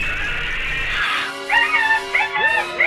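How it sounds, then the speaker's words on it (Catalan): A dog whimpers and yips in a series of short, high, rising cries, close and fairly loud, following a brief burst of noise at the start. "Ai, el gos."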